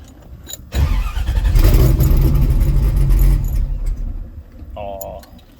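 LS V8-swapped Porsche 928 with roughly 500 horsepower cranks and catches, a loud sustained rumbling idle with some rev rise, ending with a brief voice as it settles.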